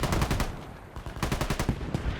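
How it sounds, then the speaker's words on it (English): Mortar rounds from Canadian forces strike the village of Ali Abad in an Afghanistan-set military video game, a loud rapid series of booming impacts and gunfire-like bursts that come in two dense clusters, each ending abruptly. "Mortars from the Canadians hitting Ali Abad and trying to just soften up the defenders here"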